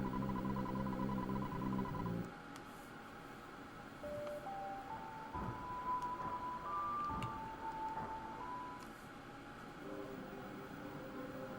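In the video game Earthbound, the Sound Stone melody plays quietly as a slow sequence of single tones over a low, rumbling game background. The opening part is louder and denser before the melody begins.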